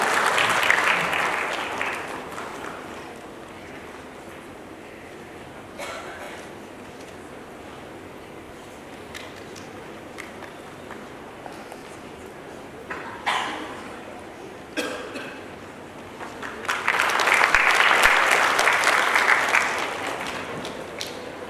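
Audience applause at a felicitation during a capital markets week programme, with clapping at the start, scattered quieter stretches and another louder swell of clapping near the end, heard from within the hall.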